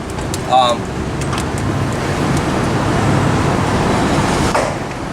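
A 1994–2001 Dodge Ram pickup on a test drive, heard from inside as a continuous loud road and engine rumble, with a brief chirp near the start and no talking.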